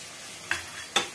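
Pieces of liver being turned into spices in a pan, two quick scraping stirs about half a second apart over a faint low sizzle, close and otherwise quiet.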